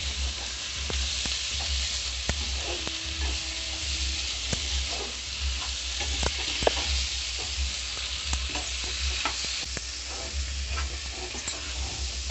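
Mutton iguru with fresh coriander stirred in a hot pan, giving a constant loud sizzle with regular spatula scrapes and taps and no talk.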